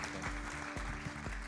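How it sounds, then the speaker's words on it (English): Applause from a conference audience for a startup pitcher at an AI pitch battle, a steady broadband patter of clapping over a low hum with a few sharper thumps. "Round of applause, please, for Tudor from SciNet."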